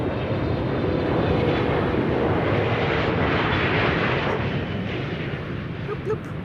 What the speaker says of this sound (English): Delta Airlines Flight 144 arriving from Seattle, Washington